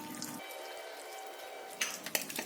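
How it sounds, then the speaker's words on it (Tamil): Dal-soaking water poured from a tumbler into a pressure cooker while making tiffin sambar, a faint steady trickle followed by a few soft splashes and drips near the end. "அதை வந்து ஒரு டம்ளர் ஊற்றுறேன்"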